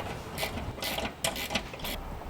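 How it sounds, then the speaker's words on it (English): A 7/16 socket ratchet and wrench tightening a lock nut on a base plate kit behind the bumper of a 2010 Honda CR-V, with several short bursts of quick close clicking and no talking. "now I'll tighten it up with a 7/16 socket and wrench"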